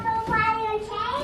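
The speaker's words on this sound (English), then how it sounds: "They're just like babbling toddler talk back and forth to each other." Toddlers babble back and forth in a home kitchen, a brief burst of high, sing-song child vocalising that rises and falls, near and fairly clear.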